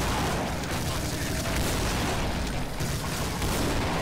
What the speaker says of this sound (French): Ah, allez, une petite grenade.